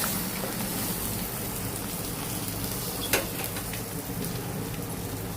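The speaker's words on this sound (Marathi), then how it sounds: "तेल सुटेपर्यंत त्याला भाजून घेते मी आता." Spiced masala paste roasting in oil in a pan, a steady close sizzle and crackle throughout with one brief sharper pop near the end, no voices.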